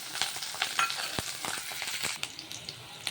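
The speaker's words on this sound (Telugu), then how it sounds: "ఆనియన్, పచ్చిమిర్చి, కరివేపాకు, అలాగే ముందుగా వేసుకున్న పోపు దినుసులు ఇవన్నీ కూడా ఫ్రై అయిపోయాయి" Crackling sizzle of onion, green chillies, curry leaves and tempering spices frying in oil, with scattered pops and spoon scrapes over a steady hiss, close up and without speech.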